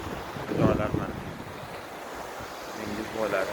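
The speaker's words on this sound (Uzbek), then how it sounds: "Qora dengiz bo'ylari." Waves break on the Black Sea shore at Golden Sands beach near Varna, Bulgaria: two soft surges of surf under steady wind buffeting the microphone, with no talking.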